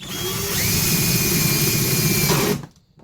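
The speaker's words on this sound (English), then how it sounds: "Now you take that drill." A power drill whines loudly at a steady pitch for a couple of seconds while building a birdhouse, then cuts off abruptly and spins down to quiet.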